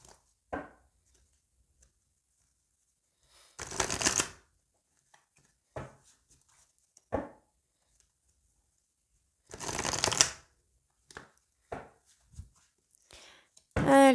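A deck of oracle cards is shuffled in short riffling bursts, with several soft taps and card handling sounds between them and quiet pauses in a calm indoor space.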